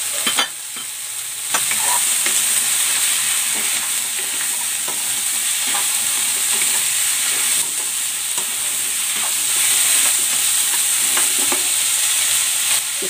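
Taro and squash pieces dropped into a hot frying pan, giving a steady loud sizzle with scraping and stirring clicks throughout, close up.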